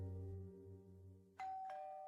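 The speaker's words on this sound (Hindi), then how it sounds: "दरवाजे की घंटी बजती है।" A two-tone ding-dong doorbell chimes once, clear and fairly close, after a fading low hum.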